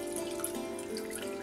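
Water poured into a pan of layered king fish and prepared masala for a curry, a soft steady trickling splash with faint drip-like spatters, quiet and continuous, with no talking.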